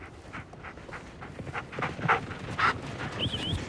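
Sled dogs on an Arctic ice patrol pant in quick rhythmic bursts, with rising whimpers and a high whine near the end, close and moderately loud.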